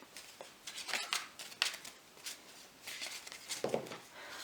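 Playing cards from a tarot-style deck spilling and scattering, a series of quick papery slaps and flutters in irregular bursts, close and moderately loud, with no voice.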